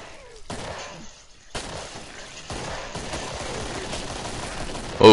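Gunfire in the video game Killing Floor, with a dense sustained burst of shots running under noisy game ambience, near and fairly loud, ending in a sharper blast.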